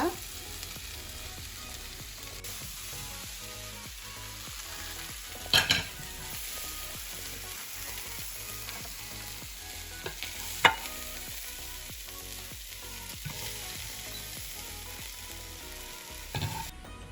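Chicken gizzards with green soya beans and green, red and yellow peppers fry in a pan, giving a steady close sizzle with scattered stirring knocks and a few sharper clicks, with no one speaking.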